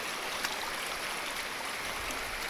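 Water pours steadily at Bunsuran Falls, a waterfall below a dam, making a constant broad rushing hiss at moderate distance with no voices.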